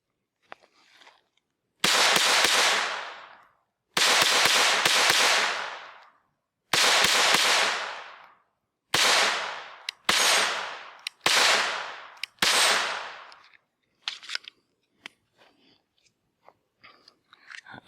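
An FN 502 Tactical .22lr pistol fired outdoors: seven loud, sharp shots spaced one to two seconds apart, each with a decaying tail, followed by faint clicks and handling noises.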